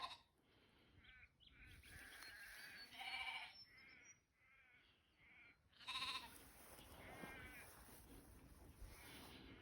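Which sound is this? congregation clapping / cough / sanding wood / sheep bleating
sheep bleating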